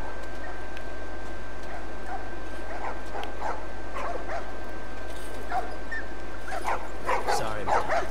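Dogs in The Last of Us video game bark and yip repeatedly over a constant game ambience, with scattered voices in the background.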